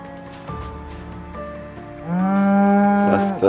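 An Angus cow in Project Zomboid gives one long, loud, droning moo near the end, after quieter game tones.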